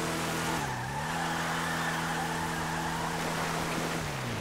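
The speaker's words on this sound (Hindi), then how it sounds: "इंजन में आवाजें तो सुन कैसी कैसी आ रही हैं" The damaged engine of a 1998 Civic in GTA 5 drones steadily with a strained tone, its pitch dipping and recovering, then sliding down near the end over constant road noise.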